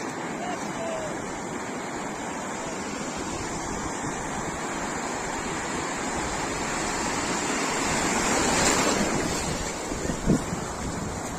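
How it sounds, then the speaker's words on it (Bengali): Sea waves wash ashore on Digha beach at dawn, a continuous roar of surf with heavy wind buffeting the microphone; one wave swells louder and breaks near the end. "এই ঢেউটা দেখি আমার কতটা উঠতে উঠতে হবে"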